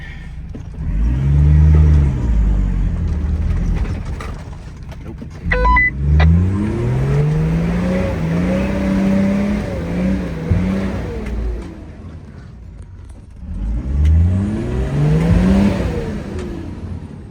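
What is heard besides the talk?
car engine revving as rear tyre slips in a rut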